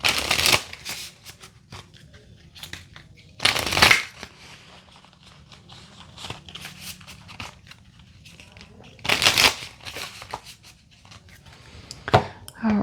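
Tarot cards shuffled by hand in bursts, a few loud riffling flurries separated by quieter rustling and handling of the deck, close to the microphone.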